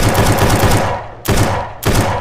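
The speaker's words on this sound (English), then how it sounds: "Loud-ass gunshot." Loud gunfire in a spooky game-jam video game: a long burst of rapid automatic shots, then two more short sharp bursts after brief gaps, very close and loud.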